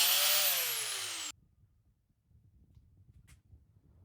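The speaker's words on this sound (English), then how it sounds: "used the cutoff wheel to score the shaft sleeve" A cutoff wheel scoring the sleeve of a Ford tractor PTO shaft: a loud, high grinding whine that slides downward in pitch for just over a second, then cuts off abruptly, leaving near silence.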